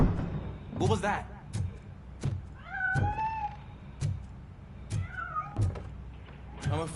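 A cat meows twice in Robocop Rogue City, with short rising and falling cries over sharp periodic thumps and clanks, while someone talks intermittently nearby.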